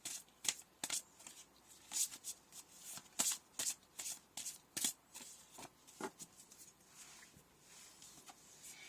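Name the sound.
shuffling oracle cards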